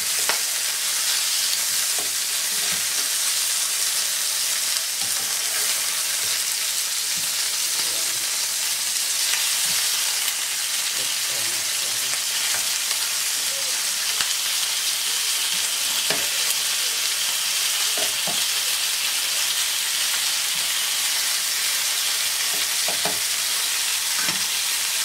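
Food pieces frying in oil in a non-stick pan after being flipped, a steady close sizzle and crackle with occasional soft scrapes and clicks of a utensil, continuous throughout with no talking.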